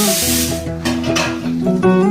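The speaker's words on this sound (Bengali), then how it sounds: "জলটা শুকিয়ে নিয়ে এবার দিয়ে দিতে হবে এর মধ্যে কিছুটা পরিমাণ বাটার।" Butter hits hot dal tadka in a pan with a loud, steady sizzle and hiss, close up, while music plays underneath.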